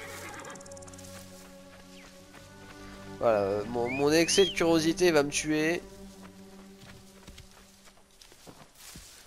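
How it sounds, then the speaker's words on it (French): Horse neighing and whinnying in the video game Assassin's Creed Origins, a loud burst of several cries in the middle over a steady game soundscape, with someone speaking briefly. "Le cheval qui arrive comme une furie"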